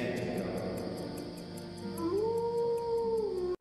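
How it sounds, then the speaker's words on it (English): A single long rising howl, a clear sustained tone that climbs, then holds and fades, over a steady ambient hum with faint rhythmic ticking. "It's the howl that sent me."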